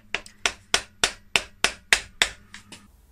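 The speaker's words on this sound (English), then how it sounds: "I just gave them a little tap home" Hammer blows seat BMW M52B30 engine main bearing caps into the cylinder block: about ten sharp, evenly spaced metallic taps, close and clear, with no talking.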